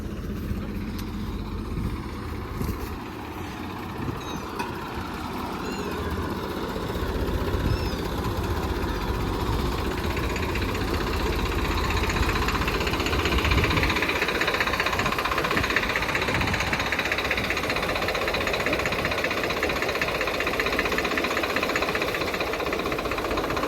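An old 1995 Holland 5620 tractor engine runs steadily nearby with a rough, knocking diesel chug that grows a little louder partway through and then holds.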